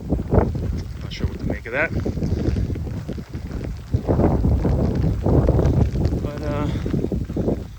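Strong gusts of wind on a Nantucket wildlife refuge hiking trail buffet the microphone in heavy low rumbles while someone speaks briefly over the noise.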